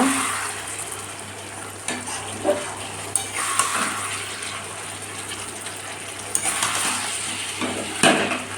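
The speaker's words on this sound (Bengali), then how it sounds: "সর্ষের তেল দিয়েছি কাঁচা লঙ্কা দিয়েছি ম্যান এদিকে আলু কেটে রেখেছি আর মাটন কষা হচ্ছে" Mutton sautés in mustard oil with green chillies, giving a steady close sizzling hiss broken by a few light clicks and utensil taps.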